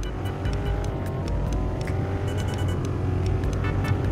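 Car engine in the Roblox game Car Driving Indonesia hums at a steady, moderate level with a buzzy low drone and faint clicks, no talk over it.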